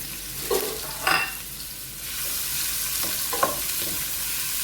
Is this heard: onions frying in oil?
yes